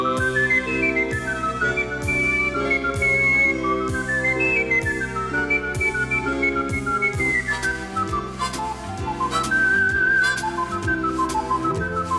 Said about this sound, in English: Maybe if you whistle, whistle for me.